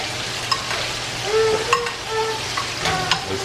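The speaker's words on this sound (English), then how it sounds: "so we're going to go ahead and baste it." Lamb sizzles steadily in a hot pan while being basted, with a continuous close frying hiss and a few light clinks and spoon sounds on top.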